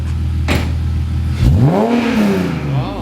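A BMW E46 330ci race car engine idles loudly up close, then revs up and falls back, the pitch sweeping upward and easing down again.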